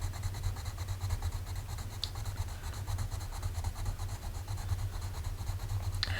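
Caran d'Ache Luminance colored pencil scratching steadily on toothy paper, a soft continuous rasp close up under a low hum, with a couple of sharper strokes.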